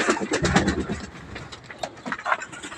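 Pigeons coo and flutter close by in a noisy, cluttered space, with scraping and rustling mixed in.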